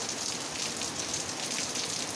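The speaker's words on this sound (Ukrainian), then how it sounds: "18 липня у нас злива на винограднику." Heavy summer downpour drenching a vineyard, a dense, steady hiss of rain hitting leaves and puddled ground, close and continuous with no voices.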